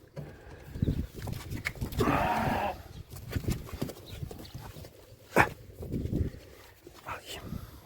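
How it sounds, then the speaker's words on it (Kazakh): A goat bleats on a farm while being made to nurse an orphaned lamb, a short loud cry close by amid people talking and other farm animal noises. "Оны неге бақырып тұр екен?"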